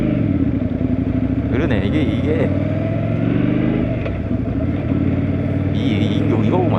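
An Indian Scout Bobber motorcycle rumbles steadily while being ridden, with a deep, continuous engine drone and wind noise up close. A rider talks over it now and then.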